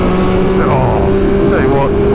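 A Triumph Street Triple 765 RS motorcycle engine pulls hard during a wheelie, loud and steady, with a rider's voice over the engine note.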